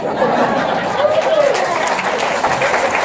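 Applause from an audience at a political meet-and-greet, a dense steady clapping that fills the whole stretch with crowd chatter and a little laughter mixed in.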